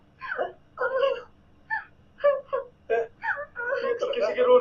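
A girl cries over a phone line, wailing and whimpering sobs in uneven bursts that build toward the end, close and fairly loud.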